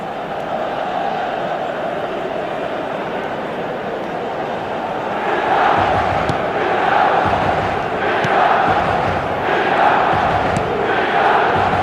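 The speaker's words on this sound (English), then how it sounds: "it certainly got the crowd going" Football stadium crowd cheering in a steady, dense roar that swells louder midway and stays up, with some background commentary talk.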